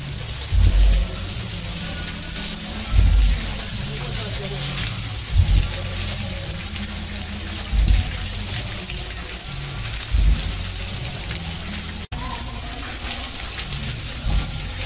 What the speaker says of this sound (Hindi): यहाँ पर गौमुख से पानी निकल रहा है